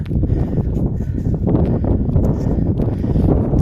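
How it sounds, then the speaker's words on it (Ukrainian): Strong wind buffets an outdoor microphone during a metal-detecting search, a steady low rumbling roar with gusty rustle lasting throughout. "Вітер сильний, просто капець."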